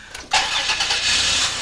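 Car engine cranking briefly, then catching and starting with a loud rise before settling into a steady, close idle.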